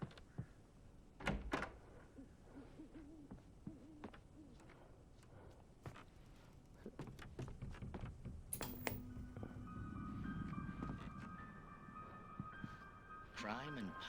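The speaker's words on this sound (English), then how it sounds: "Must have been an old ass door" An old door creaking in Alan Wake Remastered, a drawn-out groaning creak among knocks and footsteps in a dim setting, fairly quiet, with a voice briefly heard.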